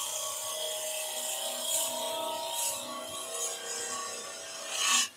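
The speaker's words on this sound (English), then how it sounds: "let's go for my spindle gouge. I'm going to just round this back end over." Spindle gouge cutting a wooden flower on a lathe, rounding over the back end: a steady, continuous scraping hiss with slight swells and a louder rasp at the end.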